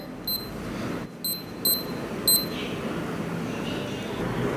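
A repaired digital sports watch sounds its alarm in four short, bright electronic beeps spaced unevenly over steady background noise, fairly close and clear.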